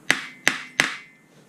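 Three sharp metallic strikes of a hammer on a center punch, denting metal, close and evenly spaced, each with a brief ringing decay.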